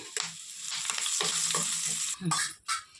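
Loud, close sizzling of tempering spices and curry leaves hitting hot oil, a continuous crackle with a few scraping stirs toward the end.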